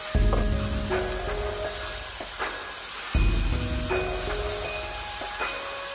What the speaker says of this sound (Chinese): 继续开大火，快速的翻炒均匀，把所有的调料吃进到豆腐里面去。